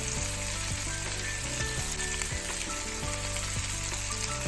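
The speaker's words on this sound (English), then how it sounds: "I'm just going to add in the ginger and the garlic and the onion" Ginger, garlic and onion fry in a pan for a brown stew, giving a continuous close sizzle broken by regular spoon strokes and scrapes, with no talking.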